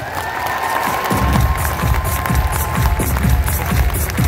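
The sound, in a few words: audience applause and cheering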